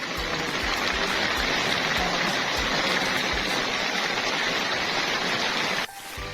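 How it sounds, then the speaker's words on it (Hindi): Steady, loud rain falls in the hill country around Murree, Ayubia and Nathia Gali under low cloud, a dense continuous hiss without voices that drops off abruptly at the end. "तो यहाँ पे तो बादल नीचे है और बारिश हो रही है।"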